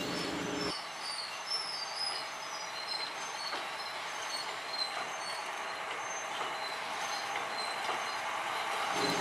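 Sugar mill locomotive number 02 from the Kedawung factory, hauling sugarcane wagons, rumbles steadily and loudly past a level crossing at Turi, with continuous wheel and engine noise and no pause.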